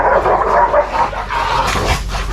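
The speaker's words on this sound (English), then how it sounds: "The dogs over there fighting over a piece of wood." Dogs fighting over a piece of wood, heard as close, loud growling and yipping snarls throughout.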